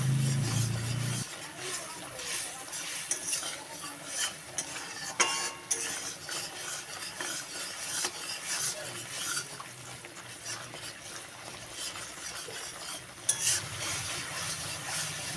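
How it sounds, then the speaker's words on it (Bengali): Spice paste with turmeric stirred and fried in oil in a pan for oily pointed gourd curry, with steady sizzling and frequent scraping of a spoon against the pan throughout, plus a couple of sharper clinks. "দেব হলুদ, মিশিয়ে মশলাটা ভালো করে ভেজে নেব।"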